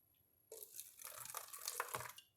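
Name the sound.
warm water poured into thin plastic water bottle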